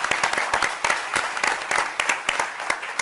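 An audience at an award ceremony breaks into applause, a dense, steady wash of many hands clapping at moderate distance that holds for several seconds.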